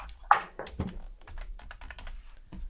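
Typing on a computer keyboard, close and fairly quiet, an irregular run of crisp key clicks and taps with a louder thump near the start.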